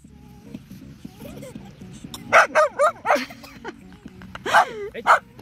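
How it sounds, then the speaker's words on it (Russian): A dog on a beach barks and yips angrily at people after cigarette smoke is blown at it, with a quick cluster of sharp, close barks followed by another pair, mixed with whimpering and some talking in the background. "на собаку дымом подул сигарету, так она злится и кричит на нас"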